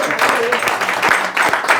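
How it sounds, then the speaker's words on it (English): A live podcast audience in London gives a round of applause, a brief burst of clapping from the crowd mixed with some voices over it. "So a big round of applause for Mark as well."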